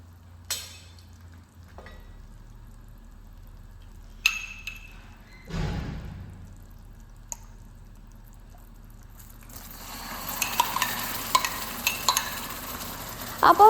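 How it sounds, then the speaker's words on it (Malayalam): A spoon stirs fresh cream in a pan over low heat while making homemade Snickers chocolate, with soft scraping, a few light clinks against the pan, and a gentle sizzle that grows louder toward the end. "ഇനി ഇത് സിമ്മിലിട്ടിട്ട് ഒരു 3-4 മിനിറ്റ് മിക്സ് ചെയ്തുകൊണ്ടിരിക്കുക"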